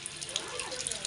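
Water spills over the rim of a filled water drum, a brief, steady splashing trickle heard up close, with a voice faintly in the background.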